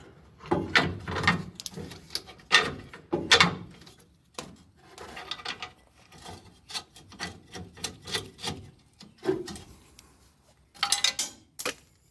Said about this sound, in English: Get your bolts through and then put your nuts on.